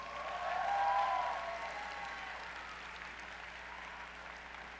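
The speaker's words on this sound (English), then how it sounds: "One more round of applause for Senator Lisa Wellman." Audience applause at a FIRST Robotics Competition event, a fairly faint, diffuse wash of clapping that swells in the first second or two, then settles into a steady, softer patter in a large hall.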